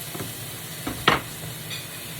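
Sliced bitter gourd (ampalaya) goes into a hot pan with a soft, steady sizzle, marked by a few short scraping stirs and one sharper clatter near the middle, close by and with no talk.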